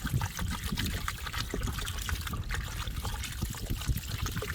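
Running water splashes and trickles steadily as cucumbers are washed by hand, a close, continuous dribbling stream with small irregular splashes throughout.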